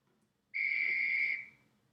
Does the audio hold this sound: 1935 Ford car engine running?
no